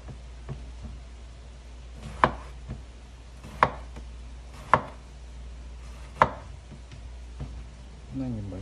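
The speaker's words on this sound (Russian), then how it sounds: "Баклажаны нужно будет порезать таким вот образом." A knife chopping eggplant into small pieces on a board, giving four clear, evenly spaced thuds with a few softer taps between them, close and distinct, before a voice begins at the end.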